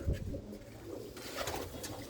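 Racing pigeons coo softly in a loft, a low murmuring at close range with faint higher chirps and some background noise.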